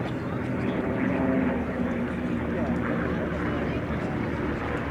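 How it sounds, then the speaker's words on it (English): A B-17 Flying Fortress, Sally B, flies in formation with a P-47 Thunderbolt at a Sywell airshow, a continuous heavy propeller-engine drone rumbling steadily throughout with an announcer talking over it. "stunning formation of the B-17 Sally B and the P-47, the Jet, the Thunderbolt"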